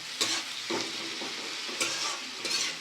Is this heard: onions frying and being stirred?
yes